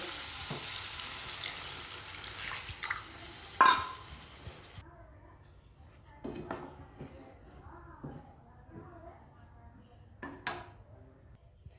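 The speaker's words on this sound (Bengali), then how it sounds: "এবার আমি এর মধ্যে দিয়ে দেবো পরিমাণ মতো জল" Water poured into onion and garlic frying for an egg and potato curry: a loud sizzling hiss with a sharp burst, then quieter bubbling with occasional clinks of utensils.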